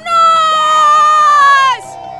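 Crowd at a cross-country mountain bike championship race erupts in a loud, sustained roar with high whoops and whistles, cutting off sharply after about a second and a half into quieter background noise.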